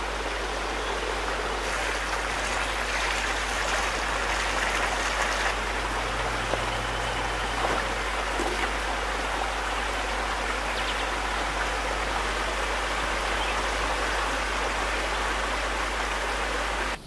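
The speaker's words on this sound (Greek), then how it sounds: "Το τραγούδι του καταράκτη, η φθόγη του νερού και της πέτρας" Waterfall pouring over stone on Mount Athos, a steady, broad rush of falling water that stays constant and close throughout, with no voices.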